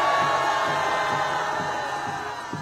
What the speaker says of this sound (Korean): 여러분들의 뜨거운 박수와 뜨거운 함성으로 여러분과 함께 화답해 주시면 감사하겠습니다